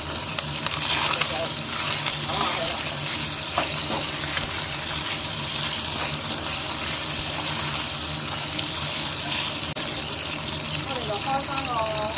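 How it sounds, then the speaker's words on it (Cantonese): Pork belly fries in a pan for a cauliflower and pork stir-fry, giving an even, continuous sizzle and crackle of hot fat throughout at moderate volume. "呢段都係咁樣煎一煎佢啦。"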